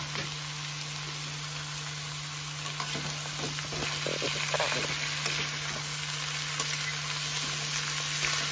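Radish added to a pan of browned onions sizzles and fries steadily, a continuous hiss with some stirring clatter partway through, close and fairly loud.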